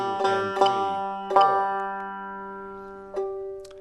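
Banjo notes in 4/4 bluegrass timing, mixing quarter notes and eighth notes: several bright plucked attacks, a quick pair followed by spaced single notes, each ringing out with sustained tones, close and clear with no talking.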